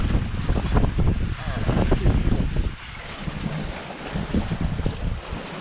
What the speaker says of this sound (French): Par moment quelques passages de houle de vagues là, comme celle-ci.